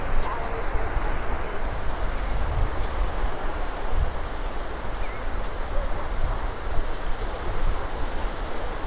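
Waves on the beach at Indian Rocks Beach, Florida, a steady broadband wash of surf mixed with wind buffeting the microphone, continuous and fairly loud.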